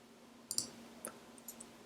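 Mouse clicks at a computer, a quick double click followed by a few softer single clicks, faint and close against quiet room hum.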